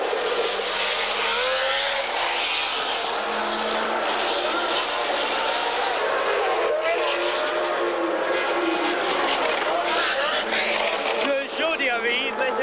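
Formula One cars, a Tyrrell and a Ferrari, race at Watkins Glen, a continuous high-pitched engine scream with rising and falling tones as they pass, heard loudly throughout under a commentator's voice.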